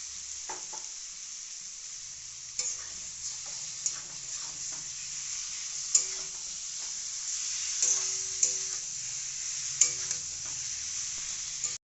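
Marinated mutton with coriander and cumin frying in a pan for Bengali-style mutton curry, a steady soft sizzle with occasional spatula knocks and scrapes, close and fairly quiet, no one speaking.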